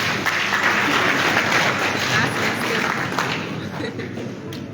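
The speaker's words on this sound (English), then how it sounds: "Let's give him a round of applause, please." Audience at a West African central bank governors' committee meeting in Liberia applauding the Governor of the Bank of West African States, steady full-room clapping that tapers slightly at the end, with some voices underneath.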